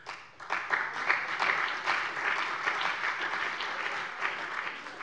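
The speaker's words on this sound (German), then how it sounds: "Applaus" Members of a state parliament applaud during a plenary session, a sustained burst of clapping that starts sharply and carries on at a steady level to the end.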